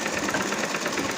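A sewing machine runs steadily while stitching a kameez, giving a continuous, fairly loud mechanical whir with a faint fluttering rhythm and no pauses.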